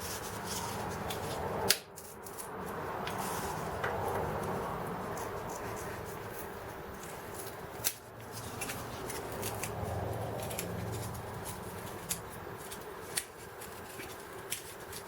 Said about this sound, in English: let me go ahead and cut around here again. Get that piece cut off.